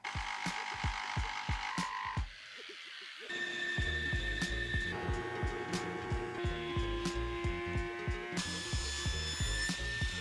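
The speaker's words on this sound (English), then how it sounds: "I cut a whole lot of thin maple and walnut pieces" Maple and walnut lumber being sawn into thin strips in a woodshop, rhythmic repeated cutting strokes over a power-tool hum, pausing briefly before resuming, with no talking.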